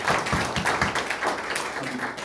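A church congregation claps in a short burst of quick, fairly dense handclaps, moderately loud and close, with no talk over it.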